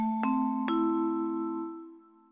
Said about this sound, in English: And vibraphone.